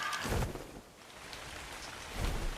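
Rain falling in the video game Ark Survival Evolved, a steady hissing downpour with a couple of low rumbling swells, no voices heard.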